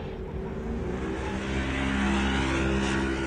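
A Can-Am UTV race vehicle's engine roars steadily and loud at an off-road race event, a continuous droning rev that swells slightly toward the end.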